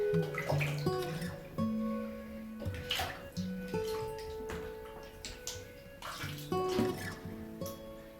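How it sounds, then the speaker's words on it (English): Warm bath water sloshes and splashes continuously around flea-infested animals being washed, with scattered drips, knocks and brief high tonal squeaks over the steady wash. "The water is nice and warm"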